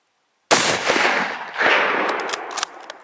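Rifle fire during a moose hunt: one loud, sharp close shot bursts in after half a second of silence and rolls out in a long echo, followed by fainter clicks near the end.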